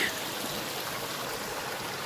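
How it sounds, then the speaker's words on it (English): A tiny river in an Irish forest runs with a steady, close trickling hiss that stays even throughout, with no voices. "So there's a small, tiny, I mean absolutely tiny river right here."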